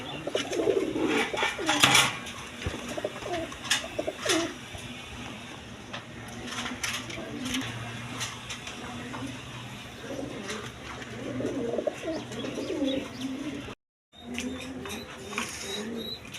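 Danish pigeons of andalusian colouring, a quality breeding pair, coo repeatedly in a loft, soft low calls rising and falling at close range, with some clatter and a brief dropout near the end.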